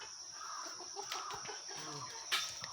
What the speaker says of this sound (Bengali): মুরগি কিভাবে মাপে দেখো ঠ্যাং ধরে ঝুলাই দিছে